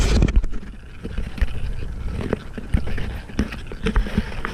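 Used motor oil draining from the oil pan of a 2013 Nissan Rogue during an oil change, an irregular close-up splatter and dribble of liquid with uneven bursts throughout.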